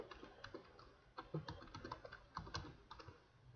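A computer keyboard being used to type a name during a Windows XP Mode setup on Windows 7, giving quick, quiet, irregular clicks in short bursts with brief pauses.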